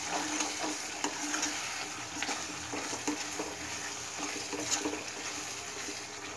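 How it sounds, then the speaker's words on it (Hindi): Cumin powder and coriander powder being stirred in a hot frying pan for chilli paneer, a steady close sizzle with scraping spoon strokes running continuously, no voices. "और उसको अच्छे से मिक्स कर देना।"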